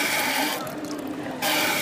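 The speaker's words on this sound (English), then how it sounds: "Bidet will clean you by the pressure of the water." Rim bidet on a converted toilet spraying water into the bowl: a steady hissing rush that eases slightly midway, then surges back louder, with no voices.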